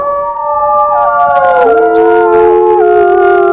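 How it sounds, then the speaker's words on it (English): Wolves howl in the wolf simulation game WolfQuest: loud, drawn-out, overlapping howls that waver and slide in pitch, filling the whole stretch with no speech. "Let's give it a howl."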